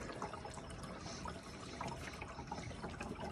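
Water pours and trickles steadily into a roof water holding tank at a tiny house cabin, a faint, continuous splashing flow with no voices.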